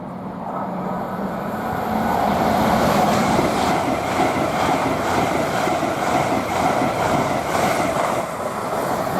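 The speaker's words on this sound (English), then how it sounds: "we've got a service from Edinburgh to London King's Cross" A Class 801 train on an Edinburgh to London King's Cross service passes through Stevenage station on the East Coast Main Line, heard as a sustained rolling roar with a steady electric hum that swells and stays loud, with no talking.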